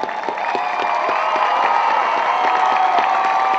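An audience at a Milton High School Hall of Fame induction claps and cheers continuously, a dense wash of applause with whoops and young voices shouting over it.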